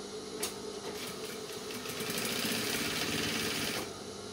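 A sewing machine runs a half-centimetre seam on a men's trouser waistband, a fast steady mechanical chatter close up, lasting nearly the whole stretch after a small click near the start.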